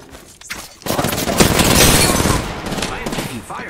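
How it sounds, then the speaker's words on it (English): Dense bursts of rapid gunfire fill an online shooter game, loud and close, with rattling automatic fire over a short stretch and a brief voice at the start. "I am taking fire, friends."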